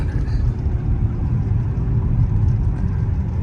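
A Dodge Journey on a road test, its tires bouncing on flat spots from sitting: a steady, loud low engine and road rumble with continuous tire drone, no voices.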